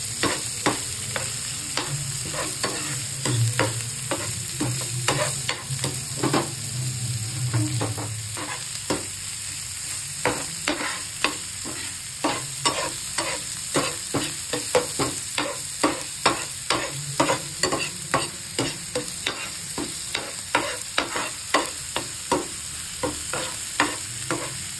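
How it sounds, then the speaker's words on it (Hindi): Onions fry in a pan for a dhaba-style shimla mirch sabji, with a steady close sizzle and regular scraping taps as a spoon stirs them. The taps grow quicker and more frequent toward the end. "अब जल्दी से प्याज डाल के भून लेते हैं।"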